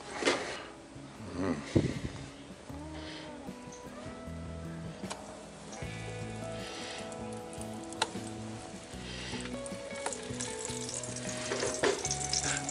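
Eggplant fries in olive oil in a Dutch oven, giving a steady crackling sizzle with scattered ticks and clinks of utensils against the pot, moderately close throughout.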